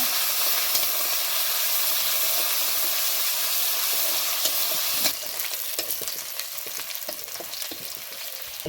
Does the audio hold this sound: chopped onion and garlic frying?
yes